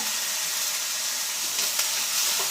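Curry leaves sautéing in a pan with chopped onion and green chilli, giving a steady close hiss and sizzle with a few faint crackles, no talking.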